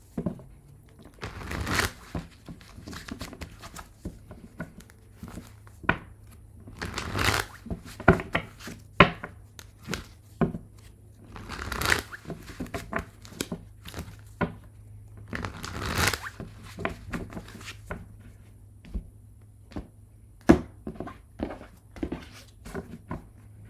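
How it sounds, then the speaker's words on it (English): A deck of tarot cards is shuffled by hand, with repeated crisp riffles and soft slaps in irregular bursts, close and without talk. "I'm going to shuffle."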